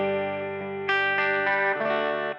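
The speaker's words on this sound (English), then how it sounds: "I'm just going to play a little bit, and I'm going to go from some humbucker clean tones." Electric guitar strummed through a budget valve amp on a clean humbucker tone, a few ringing chords sustaining with a slightly driven edge, played alone and close.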